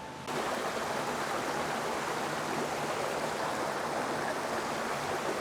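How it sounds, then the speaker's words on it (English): Water flowing between boulders in Padley Gorge, a steady broad rushing wash that stays constant and fairly close throughout, with no voices. "There's some boulders inside the gorge and water flowing through it."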